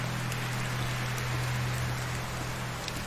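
Rain falls steadily in the video game Medieval Dynasty, an even hiss of drops on surfaces over a low hum, continuous and moderately loud, with no voices.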